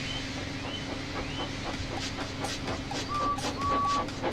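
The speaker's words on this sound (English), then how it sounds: "So they lit his fire, made lots of steam, and Edward puffed away." A steam locomotive chuffs in a steady rhythm of puffs over a low rumble, with a brief high whistle-like tone near the end.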